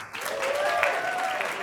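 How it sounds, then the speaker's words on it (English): An audience at a moot court competition claps in a steady, dense wash of applause, fairly loud and sustained, with faint tonal ringing underneath. "that's all for the applause"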